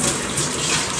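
Water gushes from a tap into a pot, a continuous loud splashing and rushing stream that stays steady from start to finish with no voices.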